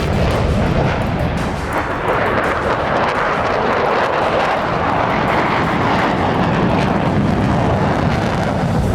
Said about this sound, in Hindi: अमेरिकी बॉम्बर्स की गर्जना सुनकर खाड़ी देश क्यों कांप उठा?